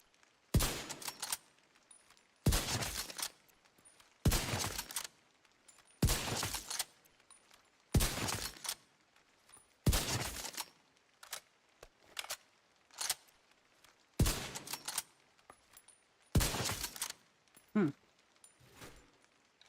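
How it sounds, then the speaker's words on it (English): Sharp, booming rifle shots from a sniper rifle in a video game, about a dozen evenly spaced reports roughly every second or two, loud and close with brief decays and no talking. "I do like this as a rifle for snoopering. It go thunk."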